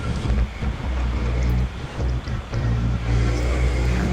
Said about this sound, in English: use the tractor and press it back together